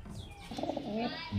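Domestic pigeons of fancy flying breeds coo softly at close range, a few throaty calls in a short burst with faint chirps around them.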